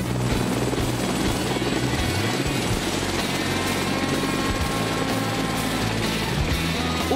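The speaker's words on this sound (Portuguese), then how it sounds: "Ainda bem que de helicóptero é rápido." A helicopter in flight heading to the Guarujá coast near São Paulo, its loud, steady rotor and engine roar filling the whole stretch close up with no break.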